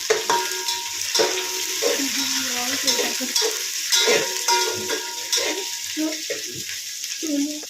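Onion wedges sizzling in a hot pan over a high gas flame, a loud steady frying hiss broken by repeated scraping and stirring strokes, close up with no talk.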